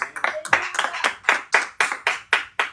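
Church congregation clapping in a steady, even rhythm, about four claps per second, moderately close and without talk over it.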